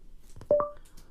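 Short electronic key press tones from a BlindShell Classic accessible phone, two quick beeps heard close and alone in a quiet room.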